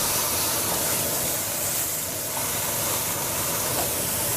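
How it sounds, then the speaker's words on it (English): Seasoned chuck roast sizzles in a Nordic Ware oval roaster pan, a dense, steady hiss of searing fat that stays loud and even throughout, with no talking. "Have the chuck roast, and we're going to bring it over to our oval roaster, and we're going to braise it in the pan."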